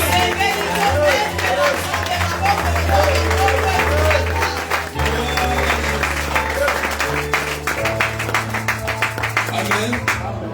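A church congregation applauds and cheers during a French-language sermon, with loud, continuous clapping and crowd noise under music and voices throughout.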